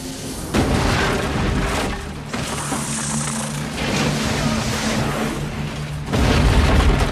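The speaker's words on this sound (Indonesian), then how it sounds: "Ledakan dinding kayu tersebut" Dynamite blasts apart a wooden wall in the film Anaconda: a heavy boom opens, rumbling debris and roar carry on, and a second deep, loud blast hits near the end.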